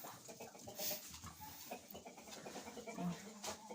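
A hen sitting on a nest in a coop gives low irregular clucks, faint and close against a murky background, with no talking.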